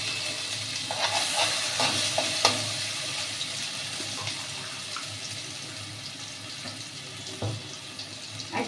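Mustard seeds sizzling in hot oil in a pan, a steady close frying hiss with scattered small pops and crackles running throughout, no talking.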